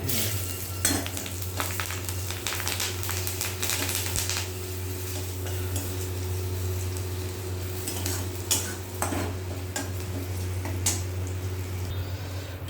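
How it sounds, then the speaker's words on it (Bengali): Steady sizzling of green chillies frying in a hot pan, with scattered clinks and scrapes of a utensil against metal; no voices. "এর মধ্যে দুটো কাঁচা লঙ্কাও ভাজা করে নেব"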